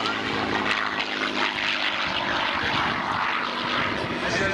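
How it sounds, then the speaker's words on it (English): A P-51 Mustang propeller fighter flies a maneuvering demonstration at an air show, its piston engine a loud, steady roar sustained throughout with faint crowd noise beneath. "Now Lee's going to give us a demonstration of the maneuvering capability of the P-51."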